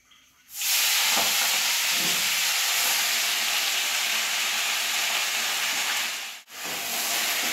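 A pressure cooker on a home stove releasing a loud, steady hiss of steam that starts abruptly, holds for several seconds, briefly cuts out, then resumes.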